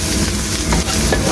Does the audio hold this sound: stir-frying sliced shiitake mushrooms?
yes